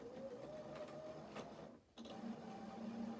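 A sewing machine runs a single understitching line along the fold of a denim skirt, whirring steadily up close with one brief pause before resuming.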